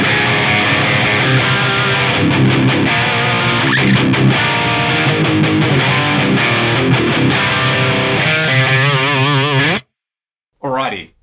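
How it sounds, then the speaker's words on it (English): Heavily distorted electric guitar played through a PRS Custom 24 bridge pickup with a mid-scooped graphic EQ, a loud, dense riff ringing steadily for about ten seconds before cutting out, followed by a short final burst. "This is what it sounds like on my PRS Custom 24 bridge pickup."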